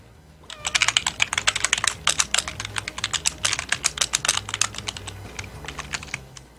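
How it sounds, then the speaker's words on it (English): Rapid, loud clacking keystrokes on a very clacky computer keyboard, a dense uneven burst of typing that starts after a brief pause and tapers toward the end, heard alone. "Someone's keyboard is very clackety."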